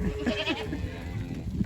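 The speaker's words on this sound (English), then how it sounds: "Man, some of them goats are getting big." Goats on a farm bleat at feeding time, several nasal, wavering calls close by overlapping one another above a low rumble of animal and ground noise.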